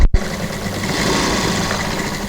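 A sewing machine runs steadily while stitching a dress hem, giving a continuous motorized whir with a rapid mechanical rhythm after a short pause at the start, close and fairly loud.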